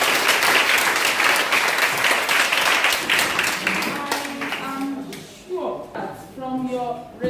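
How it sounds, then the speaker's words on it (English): An audience at a community symposium on drug abuse prevention applauds loudly and steadily for several seconds, then the clapping fades as a voice begins talking over the last moments. "I want you to give yourselves a round of applause."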